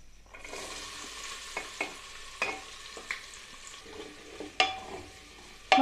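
Onion, ginger, garlic and spices sizzling and frying in a pan for an aloo matar curry, with a steady soft crackle broken by several sharp stirring scrapes and clinks, close and fairly quiet, no talking.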